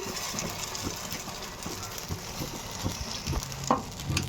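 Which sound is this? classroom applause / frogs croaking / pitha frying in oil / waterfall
pitha frying in oil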